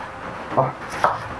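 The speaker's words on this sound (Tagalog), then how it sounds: "Tapos hiwa tayo ng sibuyas" A knife chops onion on a board with two distinct cutting knocks about half a second apart, close by, over a faint room background.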